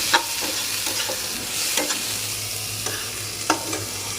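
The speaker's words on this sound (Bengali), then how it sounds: "এবার লাল করে ভেজে নেব পেঁয়াজগুলোকে" Chopped onions fry with whole garam masala in a pan, a loud continuous sizzle broken by several sharp clinks and scrapes of a spatula stirring, with no voices.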